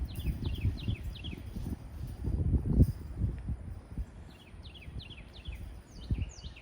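Small birds sing repeated quick chirping phrases outdoors on a homestead, clear but somewhat distant, over low rumbling and rustling handling noise close by.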